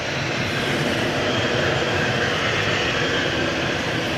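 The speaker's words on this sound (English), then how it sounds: "So that Helvetic is on the way back to Zurich." A Helvetic airliner departs Manchester Airport for Zurich, giving off a continuous, moderately loud engine roar that stays even from start to finish.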